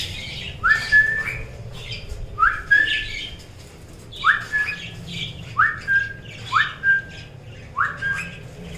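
Pet parrots in a cage give repeated sharp squawks with rising whistled notes, about six calls spaced a second or so apart over soft background noise, close and fairly loud.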